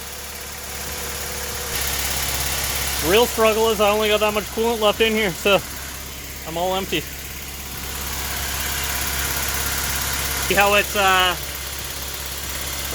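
A Honda H22 car engine idles steadily with a low constant hum throughout, while someone talks over it close to the microphone.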